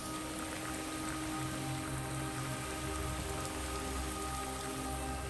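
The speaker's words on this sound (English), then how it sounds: "Yep, it's still raining." Steady rain pattering on the surface of a walking trail on Lord Howe Island, a dense, even hiss with no letup and no voices.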